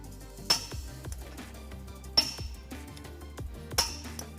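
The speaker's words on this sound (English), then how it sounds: "I'm going to torque the bolts to manufacturer specifications" A torque wrench tightens trailer hitch bolts on a Volkswagen Atlas Cross Sport, giving three crisp metallic clicks with a brief ring, spaced evenly about a second and a half apart.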